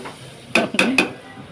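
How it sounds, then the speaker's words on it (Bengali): Noodles going into a pan bring three quick metallic clinks of utensil against cookware in close succession, near and fairly loud against a quiet kitchen background. "এতে নুডলসটা দিয়ে দিচ্ছি।"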